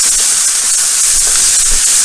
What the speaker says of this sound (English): Alright, going in with our beef.